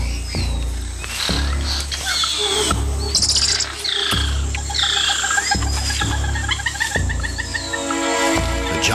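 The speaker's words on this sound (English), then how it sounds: "A squirrel monkey spots a harpy eagle and sounds the alarm" Sharp, high-pitched chirping alarm calls from a squirrel monkey spotting a harpy eagle repeat rapidly amid a busy Amazon forest chorus, with low thumping noises recurring underneath.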